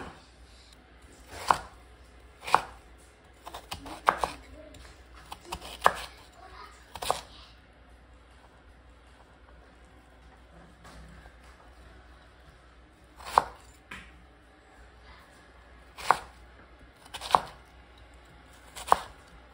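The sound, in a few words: chopping radish into cubes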